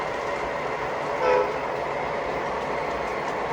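A model train locomotive running gives a steady, close rolling rumble throughout, with a short horn-like toot near the middle and no talking.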